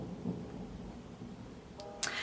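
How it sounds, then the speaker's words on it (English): Low rumbling thunder from a heavy storm rolls on steadily outside, distant and muffled, with a sharper crack near the end. "If you can hear thunder, it's just started storming so heavily outside."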